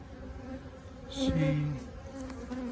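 Honeybees buzzing nearby in December, a low steady drone with one bee swelling louder as it passes close, then fading.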